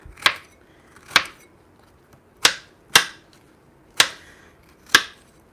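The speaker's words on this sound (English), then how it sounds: "Chop it into smaller pieces" Zucchini chopped into smaller pieces on a board: six sharp, separate knife strikes at an uneven, unhurried pace, close and clear with no voices.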